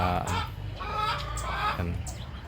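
Chickens cluck and murmur in a backyard coop at close range, a few overlapping birds making short repeated calls with no pause for the whole brief moment.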